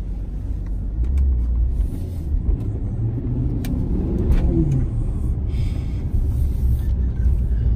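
Maserati car driving a short stretch through a complex of long buildings, heard from inside as a steady low engine and road rumble that holds without a break, fairly loud, with no talking.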